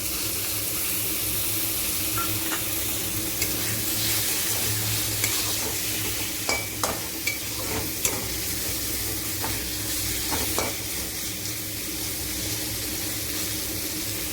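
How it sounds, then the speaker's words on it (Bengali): Peas and fresh corn sizzle steadily in a hot pan for soya fried rice, a continuous loud frying hiss with occasional scraping stir clicks of a spatula, no talk. "এবার আমি মটরশুঁটি আর ফ্রেশ কর্নটা দিয়ে দেবো।"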